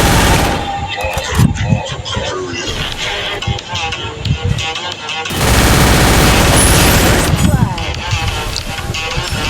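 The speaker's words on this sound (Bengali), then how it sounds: "তা আমিও মারবো গ্রেনেড, আমিও মারবো গ্রেনেড।" Video game firefight with grenade blasts and rapid gunfire, dense loud bursts and booms running almost nonstop, with someone talking over the action.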